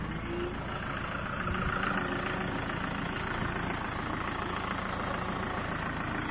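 A Mitsubishi L200 DiD diesel pickup, converted with a big Borg Warner turbo, idles steadily and close with a low, even rumble throughout.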